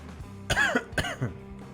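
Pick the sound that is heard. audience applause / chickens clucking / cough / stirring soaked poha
cough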